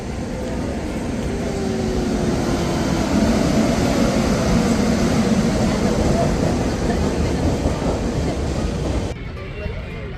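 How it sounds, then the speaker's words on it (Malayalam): A train rumbles past close by on the opposite track at a station platform, a loud steady roar with a rattling undertone that holds for several seconds, then drops away abruptly near the end. "ട്രെയിൻ വന്നു പക്ഷെ നമ്മുടെ അല്ല അപ്പുറത്ത് കൂടെ പോകുന്ന ട്രെയിൻ"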